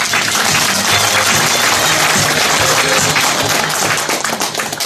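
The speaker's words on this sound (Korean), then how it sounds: "한번 뜨거운 박수 한번 부탁드립니다." Loud, close applause breaks out from the crowd at the opening ceremony of a Korean parliamentary candidate's campaign office, dense and continuous, with a low hum underneath, before thinning into scattered claps near the end.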